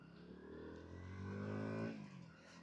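A KTM Duke 160 motorcycle pulls away in first gear, its engine note rising steadily as it revs, then dropping off sharply, heard faintly and alone.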